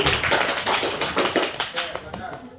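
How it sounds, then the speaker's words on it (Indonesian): A classroom group gives applause to a student group after their presentation: a short burst of close, sharp hand claps with a loose, uneven rhythm that thins out toward the end. "kita berikan aplaus untuk kelompok 2"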